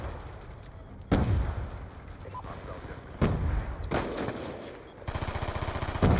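Rapid automatic gunfire in a first-person shooter game, loud bursts of rattling shots starting and stopping several times over dense game noise.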